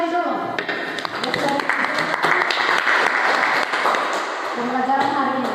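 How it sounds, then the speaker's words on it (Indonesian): A classroom of students claps for a classmate named Mary, a dense burst of close applause with some tapping and thumps, lasting several seconds alongside voices. "tepuk tangan buat Mary dulu"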